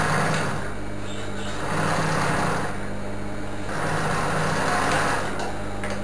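A sewing machine stitches a decorative topstitch on a fabric-scrap shoulder bag, running in steady whirring bursts. Each run of a second or two is broken by short pauses, heard up close with a constant low hum beneath.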